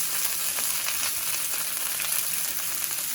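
Peppers softening in a pan over medium-high heat, a continuous bright frying hiss and sizzle with faint stirring, close up and steady with no voices.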